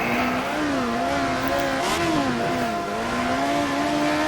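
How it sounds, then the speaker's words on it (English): A Lotus 72D race car engine in a racing video game revs with a loud, steady whining tone that rises and falls in pitch throughout, heard alone with no talk. "Rev it up there."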